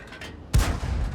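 A single heavy tank cannon shot from an American T67 tank destroyer in the World of Tanks game booms loudly and close, with a rumbling tail after a quiet lead-in.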